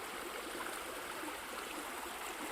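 The Katun River in Altai flowing in a steady, even rush of water, a continuous broadband wash with no other sounds and no voices.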